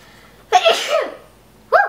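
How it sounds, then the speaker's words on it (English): A person sneezes up close, one sharp loud sneeze followed by a short breathy exhale, then the start of a second burst at the end. "I'm gonna sneeze."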